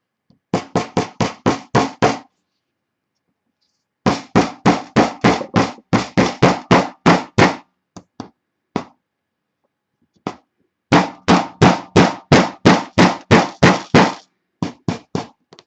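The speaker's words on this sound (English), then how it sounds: "And you're going to knock them in." Two nails are hammered into wood to make a knitting loom, with rapid bursts of loud, evenly spaced knocks in long runs separated by short pauses and a few isolated taps.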